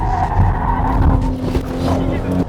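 A 2021 Porsche Cayenne E-Hybrid pulls out of a corner in second gear, its engine droning loud and close beneath a steady tone while someone talks over it throughout.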